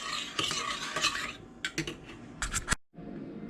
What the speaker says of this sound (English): Turn on soup on medium heat and stir occasionally until warm.